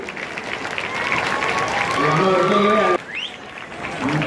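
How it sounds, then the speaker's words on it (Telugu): A crowd applauds loudly and steadily at an anti-drug awareness rally on Necklace Road, with a raised voice or tone ringing over the clapping. The clapping cuts off sharply near the end and leaves a softer crowd murmur. "వేదిక ముందున్న వాళ్ళందరూ కూడా గట్టిగా చప్పట్లతోటి"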